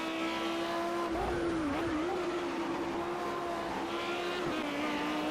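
GT3 race cars lapping Donington Park in the Project CARS racing game, a steady engine drone holding one pitch with brief dips as gears shift, continuous and fairly loud with no talk.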